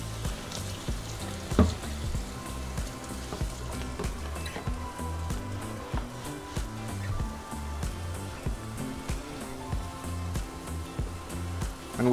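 Bacon fries in a hot pan as pasta is prepared, giving a continuous dense sizzle with a steady crackle close by and faint rhythmic thumps underneath, without speech.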